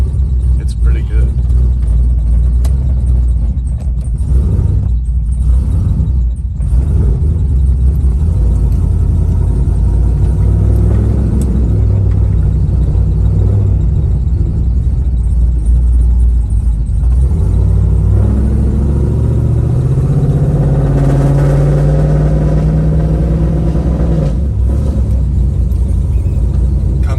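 A 500hp Pontiac WS6 idles steadily with a loud, continuous low rumble close by, and a person talks over the engine.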